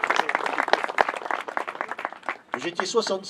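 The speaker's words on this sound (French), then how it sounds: "ça mérite d'être salué et applaudi d'ailleurs." An audience at a music contest award ceremony claps in a short burst of scattered applause, mixed with nearby voices that take over toward the end.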